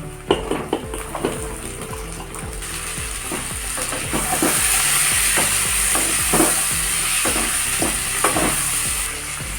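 Potatoes sizzle steadily in a pan while a spatula scrapes and clacks against the metal in a fast, repeated rhythm.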